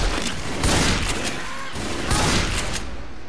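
Rapid gunfire bursts in a multiplayer video game, loud overlapping shots and booms in quick volleys, with voices talking faintly underneath.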